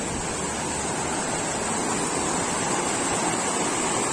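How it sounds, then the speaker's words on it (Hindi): A small river in Solang Valley near Manali flows in a steady, broad rushing wash of water that stays constant and fairly close throughout, with no voices. "यहाँ छोटा नदी बहता है, छोटे नदी के पास पहुंच गए हैं।"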